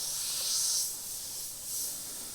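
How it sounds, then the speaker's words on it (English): Short bursts of air pushed through an airbrush clear dried paint from the nozzle, making a close, steady hiss that swells and eases in two or three pulses. "I can press down on the air, pull back, give it some short bursts, and that's going to dislodge any of the paint"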